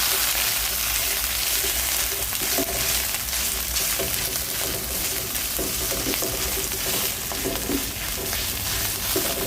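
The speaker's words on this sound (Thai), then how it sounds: "อันนี้เป็น กะปินะคะ เรามาผัดให้หอมก่อนนะคะ" Shrimp paste and curry paste stir-fried in a pan for a Thai red curry, giving a steady, dense sizzle with scraping stir strokes throughout, close and fairly loud, with no talking.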